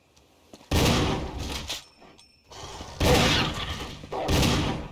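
Gunfire from the Resident Evil HD Remaster game, playing as Jill with dogs nearby, sounds as several heavy, booming shots in separate bursts with short gaps between them.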